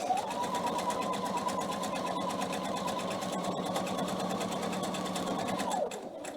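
A PFA sewing machine stitches a cushion cover in one steady, close run of rapid mechanical whirring for several seconds, then it stops abruptly near the end.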